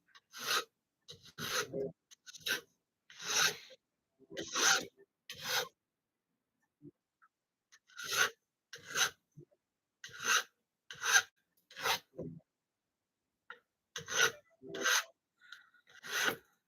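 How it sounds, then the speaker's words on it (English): Rhythmic rasping strokes of a hand file shaping small silver pieces to be rounder in a silversmith shop, about a dozen close, crisp bursts in short groups separated by pauses. "Right now, I'm just filing these to be more round"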